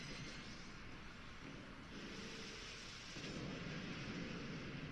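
Rain from the weather effect in a Pokémon video game battle, a steady, dense hiss of falling rain with a low rumble, continuous and fairly faint, with no talk.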